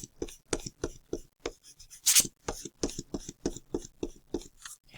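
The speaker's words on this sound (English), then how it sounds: "Oh, apparently I have a little bit of blue on my eraser too somehow. Erasing my lines." A pencil eraser scrubs pencil lines off paper in quick, close, rhythmic rubbing strokes, about four per second, with one brief harsher brush-off in the middle.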